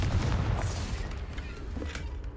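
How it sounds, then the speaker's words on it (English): A Confringo spell goes off in Hogwarts Legacy as a fiery blast, a booming burst at the start that fades into a crackling tail. "Confringo."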